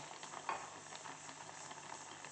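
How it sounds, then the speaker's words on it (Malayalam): Olan curry boiling in a pot on the stove, a soft continuous bubbling and sizzling hiss at low level with one small clink, no voices. "അടിപൊളിയായിട്ട് തിളക്കുന്നതാണുണ്ട്"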